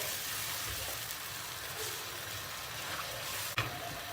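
Tomato paste diluted with cold water is stirred in a pan for köfte, giving a steady, quiet sizzling hiss, with a single sharp utensil clink near the end.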